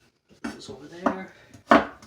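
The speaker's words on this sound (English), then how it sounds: "let's chop these carrots up" A knife chops carrots into matchsticks on a cutting board, giving three or four distinct, crisp, close cuts spaced unevenly apart.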